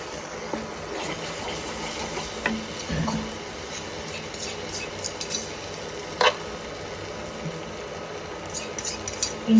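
A pan of palkova, the thick milk sweet, being stirred, with soft continuous scraping and a faint bubbling sizzle, plus an occasional spoon knock against the metal.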